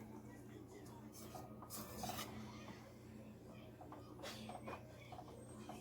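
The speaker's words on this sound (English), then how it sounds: "I'm going to just continue to whisk" Country gravy being whisked in a pan just off the boil, a soft, quiet scraping and rubbing at close range that continues steadily with faint clinks.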